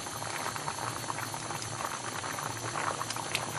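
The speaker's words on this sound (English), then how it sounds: "beans have been boiling for a while now with the fish, the meat and all the other spices" Beans boil steadily in a broth with fish, meat and spices for corn chaff, a dense, close, continuous bubbling and popping that holds even throughout, with no one speaking.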